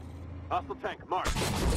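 Tank cannon firing in the video game Armored Warfare, a loud broadband blast arriving near the end after a few seconds of quieter game sounds with brief talk.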